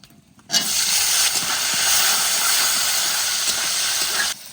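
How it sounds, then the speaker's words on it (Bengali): Chopped onion hits hot oil in a large kadai with whole spices, setting off a sudden loud, steady hissing sizzle that holds for about four seconds and then cuts off, close up with no voices. "এবার দেবো কুচানো পেঁয়াজ।"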